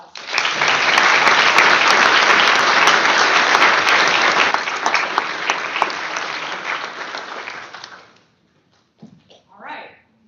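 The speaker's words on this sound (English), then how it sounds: "One more round of applause." Loud, dense applause from a crowd at a judge's swearing-in ceremony, sustained for about eight seconds before stopping abruptly, followed by a brief voice.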